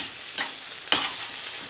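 A spoon stirs lemon juice into eggplant simmering in a pan, two quick scraping strokes over a soft, steady sizzle, close and fairly quiet.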